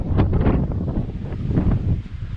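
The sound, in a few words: wind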